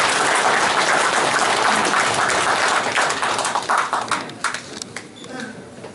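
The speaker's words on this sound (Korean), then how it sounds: "큰 박수로 환영해 주시기 바랍니다" Audience applause welcomes a speaker at a press conference announcing a candidacy for Gumi mayor. The dense clapping is steady at first, then breaks into scattered claps as it fades out.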